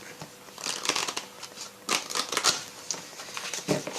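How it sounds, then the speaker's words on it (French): Tarot cards being shuffled by hand give crisp, papery riffling bursts in quick irregular bunches, close and moderately loud, with no speech over them. "Je vais brasser parce que je ressors les cartes"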